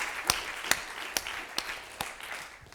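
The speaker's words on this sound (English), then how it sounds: "let's just start by giving them a round of applause," An audience applauds at a workshop on organizing strategy. The steady, fairly faint wash of clapping carries a few sharper individual claps at roughly even intervals.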